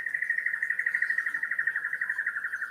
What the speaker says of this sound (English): That's a Lewin's honey eater.